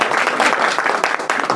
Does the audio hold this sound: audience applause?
yes